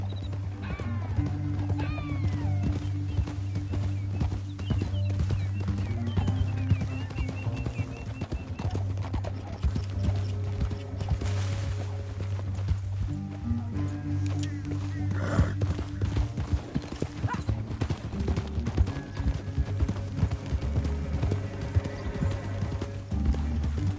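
Horses gallop in Red Dead Redemption 2, steady rhythmic hoofbeats running throughout over a low droning game score, with occasional heavier thuds and no talk.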